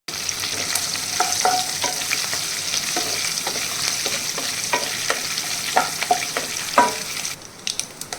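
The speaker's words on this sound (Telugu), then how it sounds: "పోపులు వేగిపోయాయండి సో ఇప్పుడు ఉల్లిపాయలను అయితే యాడ్ చేసుకున్నాము" Chopped onions and green chillies fry in hot oil with tempering spices and curry leaves for a mango curry. A steady sizzle runs throughout, with a spoon scraping and stirring at intervals, and no talking.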